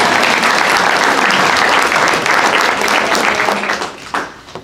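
Loud, dense applause at a legislative wrap-up event, a full room clapping steadily before it tapers off in a few final scattered claps.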